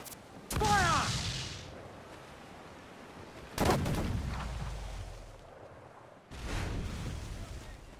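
Pirate ship cannons in Assassin's Creed Black Flag fire three separate heavy blasts a few seconds apart, each with a booming, rumbling tail that fades.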